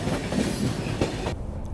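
The New Delhi–Bihar Sampark Kranti Express runs at a steady 130 km/h, giving a loud, dense rumble with rhythmic wheel clatter throughout, dropping off sharply at the end.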